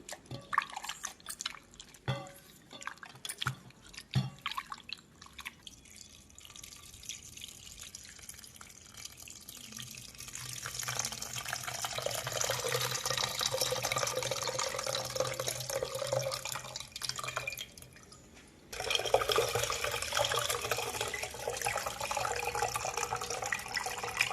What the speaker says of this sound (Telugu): చింతపండు రసం దానిలో పోసేద్దాం